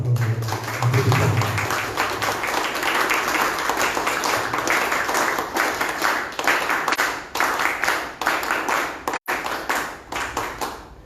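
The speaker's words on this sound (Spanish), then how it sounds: "Lo recibimos con fuerte aplauso" Audience applause welcoming a speaker at a talk on international politics, sustained dense clapping from a crowd lasting about eleven seconds, fairly loud and steady with slight rhythmic pulsing toward the end.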